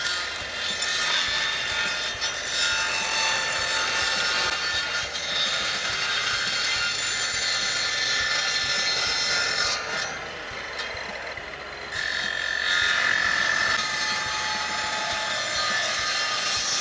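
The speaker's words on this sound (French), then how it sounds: "on va passer la scie en position circulaire" Circular saw cutting through wood from a beer crate, a steady, continuous close-up rasping whine that holds for the whole stretch with slight dips midway, no talking.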